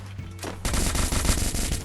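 Gunfire rattles in a shooting video game, a sudden loud burst of rapid automatic shots that keeps hammering close by after a quieter start.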